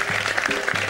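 A brief burst of studio-audience clapping on a Hindi-language morning TV show, a dense, even patter of many hands with a low background hum, lasting about a second.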